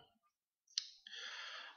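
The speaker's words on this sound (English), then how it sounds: "So we're just going to click on save." A sharp, quiet computer mouse click on a save button in a revalidation portfolio web form, heard once in near silence, followed by a soft sustained hiss.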